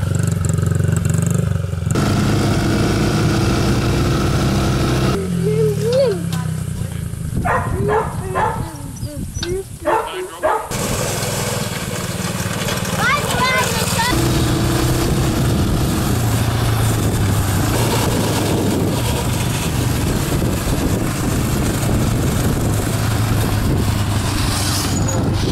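A small go-kart engine revs loudly in bursts on New Year's Eve, its drone rising and falling, while people talk and shout nearby and a dog barks.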